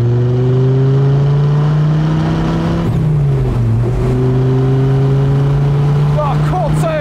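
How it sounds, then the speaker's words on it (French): A Dodge Viper RT/10 V10 engine revs loudly up close, its pitch climbing, dipping and rising again with a strong, sustained howl. "Le moteur est assez agressif parce que c'est bourré de couple."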